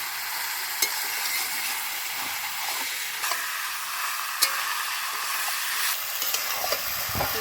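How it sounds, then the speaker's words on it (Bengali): Chicken pieces with onion and garlic frying in a pot, a continuous bright sizzle with occasional clicks of a spatula against the vessel as it is stirred, steady and close, with no talking. "মাংসটা আমি একটু নেড়ে ছেড়ে নিলাম"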